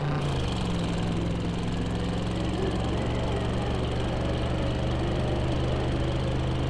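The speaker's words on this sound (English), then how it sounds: "The engine sounds a lot better." A hot rod's engine in the Drive Beyond Horizons driving game, a loud steady rumbling drone with a constant low hum, running unbroken and close throughout.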